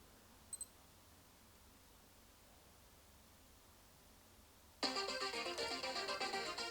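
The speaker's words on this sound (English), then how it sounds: "if you hold down the bottom right find button, it should play a lovely song" A quiet, hissing room goes still until a Casio G-Shock G-Steel GST-B100B watch's phone-finder alert suddenly plays a bright electronic melody loudly, continuing to the end.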